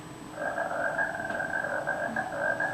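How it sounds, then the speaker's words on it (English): A wild frog gives a mating call: a steady run of buzzing, pulsing croaks, close and clear with nothing else around it. "You know that frogs in the wild make these sounds."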